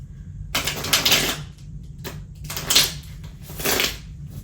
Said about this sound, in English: Let's get a couple more good shuffles in